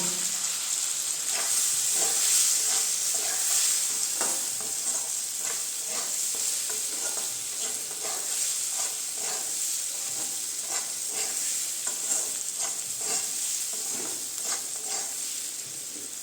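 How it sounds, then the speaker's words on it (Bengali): Fried eggplant, radish and potato tossed into a spice mix in a pan crackle and sizzle steadily, with repeated scraping stirs throughout, close and alone without talk. "এখন দিয়ে দেবো এই বেগুন, মূলা, আলু সব ভাজাটা ওই মশলাটার মধ্যে দিয়ে দেবো।"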